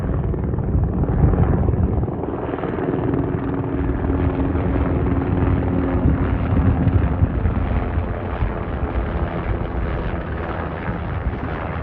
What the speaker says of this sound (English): It's like the closest that the helicopters have ever come to the tower.